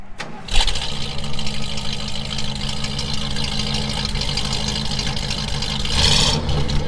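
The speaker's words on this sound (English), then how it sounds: "Let's do a cold start." A 1970 Ford F100 cranks briefly on a cold start, then fires and settles into a loud, steady idle heard close up, with a slight rev near the end and no voices.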